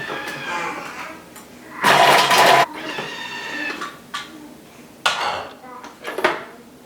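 A Thermomix TM6 chops celery at speed 5, a loud, short whirring blade burst lasting under a second, set between quieter clinks of the bowl and lid, with some background voice nearby.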